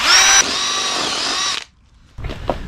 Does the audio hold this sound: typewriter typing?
no